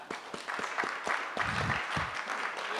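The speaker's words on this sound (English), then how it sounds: "let's clap for that" Clapping at a community meeting, a handful of distinct hand claps at first that thicken into light, fairly quiet applause from a small audience.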